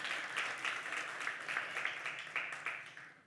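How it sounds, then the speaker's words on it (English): Audience applause for the host mayor of a Côte d'Ivoire city at a keynote event, a steady round of clapping from a moderately sized crowd, lasting a few seconds with fairly even intensity. "Please clap for her because she's my host mayor"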